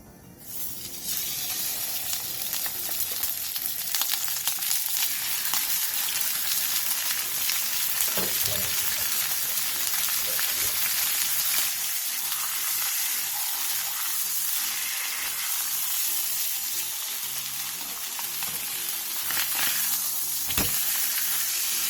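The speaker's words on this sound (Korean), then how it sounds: "팬에 참기름 2스푼을 두른 뒤 병어를 올려 센 불에서 앞뒤로 노릇노릇하게" Pomfret frying in sesame oil in a pan over high heat, a loud, dense, continuous crackling sizzle with occasional pops, sustained and close throughout.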